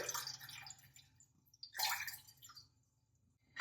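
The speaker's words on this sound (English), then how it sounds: "For 3/4 cup of dal, add 2 cups of water" Water is poured from a cup into a bowl of dal (lentils) for pressure cooking in an Instant Pot, in two short splashing bursts, quiet and close with a pause between.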